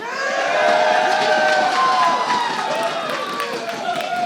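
A large crowd at a Madden 17 video game championship roars and cheers continuously, loud and sustained, with shouting voices blended into the noise.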